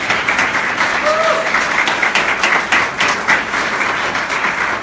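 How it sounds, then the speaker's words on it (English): Loud, steady applause from a press conference audience, dense continuous clapping sustained throughout with a brief whistle rising above it. "So please give yourselves a round of applause."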